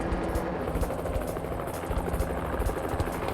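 Continuous rapid thumping of helicopter rotor blades with a droning engine, loud and steady throughout.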